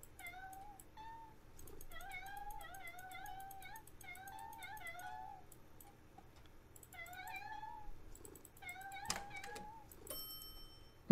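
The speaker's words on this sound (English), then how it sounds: "Maybe they're just cats that want outside" Several cats meowing in a run of repeated, rising and falling calls, fairly close and clear, with a brief pause in the middle and a sharp click near the end; nobody speaks.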